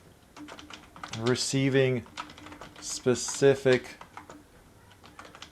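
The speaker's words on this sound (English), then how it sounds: "So I'm just going to start typing before I lose track of thought." Computer keyboard keys clatter in quick, irregular bursts during work on printer and office software problems, running beneath a person talking close by.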